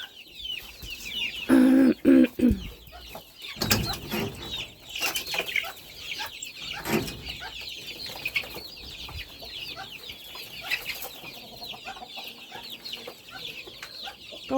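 Farmyard chicks peep and shriek in rapid high chirps throughout, nearby and fairly loud, with a few louder bursts and some clucking among them.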